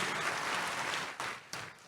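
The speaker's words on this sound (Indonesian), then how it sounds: "Kasih tepuk tangan yang meriah untuk Tuhan Yesus" Church congregation applauding during a sermon, a short burst of many hands clapping together that breaks off abruptly partway through.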